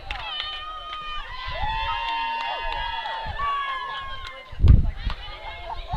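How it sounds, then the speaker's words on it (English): Girls in a fastpitch softball dugout cheer and shout after a run scores, a lively burst of high voices and whoops close by, with a sharp thump near the end. "Gets a big cheer from the dugout."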